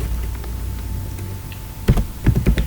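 Computer keyboard typing while writing JavaScript code, a few soft scattered key taps followed by a quick burst of crisp clicks near the end, close and clear.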